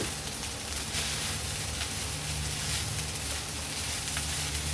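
Chinese fried rice with onion leaves sizzles steadily in a pan at home, a dense, even frying hiss with faint scraping, continuous and close with no talking.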